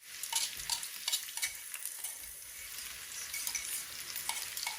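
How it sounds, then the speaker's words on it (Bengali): Dried red chillies and onion sizzle in hot tempering oil for dal, a continuous close frying hiss broken by soft scraping stirs and a few light clinks. "শুকনা মরিচ অল্প করে পেঁয়াজ দিলাম"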